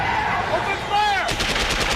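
Bursts of gunfire from soldiers in a science fiction film, loud overlapping shots and rapid machine-gun rattle following a shouted order, with a sweeping electronic tone just before.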